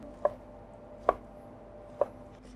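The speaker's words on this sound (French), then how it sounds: "on les prend par deux et on vient les hacher grossièrement" An Opinel folding knife roughly chops ingredients on a board during a chocolate-orange-spice Yule log recipe: three sharp, close, evenly spaced chops about a second apart, alone against quiet room tone.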